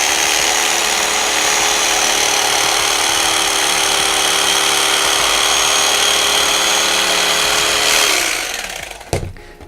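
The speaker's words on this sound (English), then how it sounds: "I usually cut the foam out with one of these carving knives" An electric carving knife slicing through a piece of scrap foam, a loud, steady motor buzz with a whining hum that runs unbroken for about eight seconds before winding down and cutting off, with no speech.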